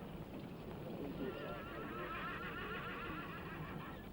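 Horses whinnying and clip-clopping in a Western frontier town setting, a steady close neigh and hoof sounds running throughout under faint background talk.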